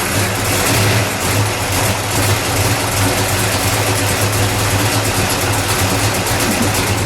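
A 1966 Chevrolet Chevelle SS with a 427 engine idles steadily, a loud, close, continuous low rumble with a lumpy pulse and no talk over it.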